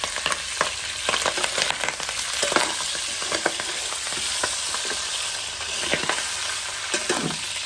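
Potatoes frying in hot oil for boucané, a dense crackling sizzle with frequent sharp pops and utensil scrapes, close and steady throughout, no talking.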